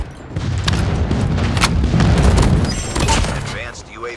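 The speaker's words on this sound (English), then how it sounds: "Friendly airstrike incoming." Airstrike explosions in the mobile shooter Call of Duty Mobile: a continuous barrage of heavy booms and crackling blasts with gunfire mixed in, loud throughout and easing off near the end.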